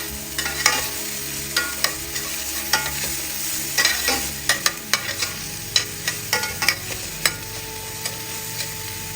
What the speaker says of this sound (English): you add your chopped onions. So I'm going to be stirring.